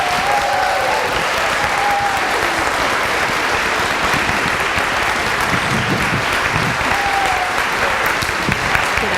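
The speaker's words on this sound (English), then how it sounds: "Let's give all of our seniors a round of applause." An audience claps steadily for graduating seniors, a dense, even wash of applause that holds at a constant level throughout with a faint voice or cheer briefly rising above it.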